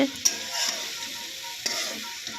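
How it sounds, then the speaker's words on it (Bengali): Eggplant pieces fry in hot oil with onion while being stirred, a dense close sizzle with a few sharp scraping clicks of the spatula against the pan. "নাড়তে নাড়তে ভালো করে ভেজে নেব বেগুনগুলোকে"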